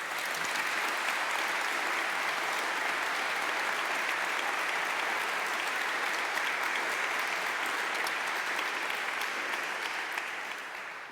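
Sustained audience applause at an evening event with a church bishop and authors, a steady dense wash of clapping that holds for about eleven seconds before easing slightly at the end.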